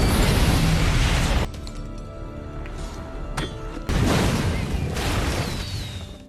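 Grenade explosions tearing through rooms in an action film, a loud dense blast roaring for over a second, a quieter rumbling stretch with debris, then a second heavy burst that slowly fades.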